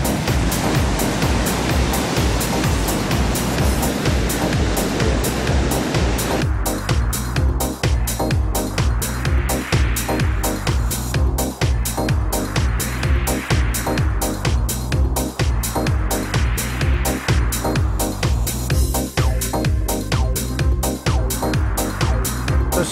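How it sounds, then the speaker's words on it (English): Big surf on an ocean beach during surf fishing, with sets of waves breaking and washing in a steady rolling roar. Strong side drift, close and loud, with no talk. "A set of waves coming through,"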